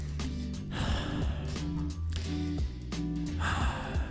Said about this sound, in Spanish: Me encanta cómo se escucha la respiración de quien está grabando.